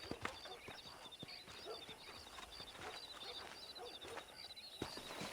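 Horse hooves clip-clop in a steady, unhurried rhythm in the video game Red Dead Redemption, fairly quiet, over a faint outdoor background with a few sharper knocks.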